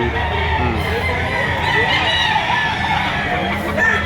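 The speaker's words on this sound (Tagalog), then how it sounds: "marami pa rin manok dito" Chickens and roosters at a poultry market in Lipa, Batangas, clucking and crowing steadily as a dense, continuous chorus, close and loud, with faint voices mixed in.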